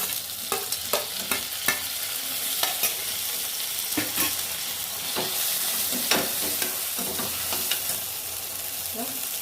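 Tomatoes and green chili frying in a pan for chicken pulao, a steady sizzle broken by repeated sharp spoon scrapes and knocks as the mixture is stirred, close and fairly loud.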